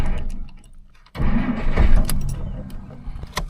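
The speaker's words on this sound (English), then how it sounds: "My starter is hanging up now." Starter motor on a Plymouth NASCAR tribute car hanging up while cranking, a low grinding churn that drops quiet, then bursts back loud and rough for a couple of seconds before fading, with short sharp clicks near the end.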